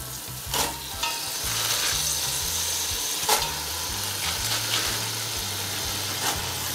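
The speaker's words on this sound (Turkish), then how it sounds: "Şimdi içindeki harç ile birlikte ıspanağımı yavaş yavaş karıştıracağım" Spinach filling for börek being stirred in a hot pan, soft sizzling and frying under repeated scraping strokes of a utensil, with sharper clinks against the pan, close and steady.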